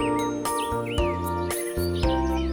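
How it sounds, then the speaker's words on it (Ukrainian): Birds chirp and trill with sliding, whistled calls in a spring forest scene, bright and close over a recurring tinkling musical accompaniment with bell-like tones. "Як співають пташки, радіючи весні"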